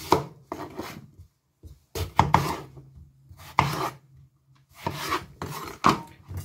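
A knife slices through eggplant on a board in scraping, rasping strokes, grouped in bursts with short pauses between, close and clear.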